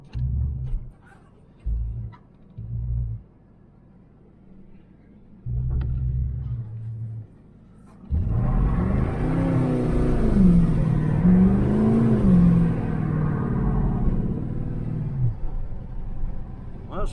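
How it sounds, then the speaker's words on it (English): A 1978 El Camino SS on a wet road first idles with short blips, then revs hard for several seconds as its tires spin, a loud, rising and falling V8 roar with tire whine before it cuts back. "Spun them pretty good on wet"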